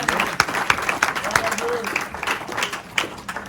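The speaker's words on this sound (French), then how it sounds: "Est-ce que vous pouvez acclamer pour eux?" Audience at a women's conference applauding, a dense patter of claps with a few sharper cheers, moderately loud and continuous through the moment.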